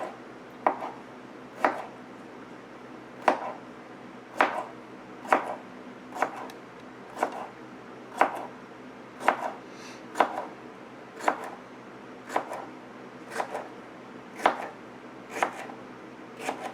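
A knife chops mushrooms quickly for stuffed bell peppers: crisp, evenly spaced strikes at roughly one per second, moderately quiet with no talking.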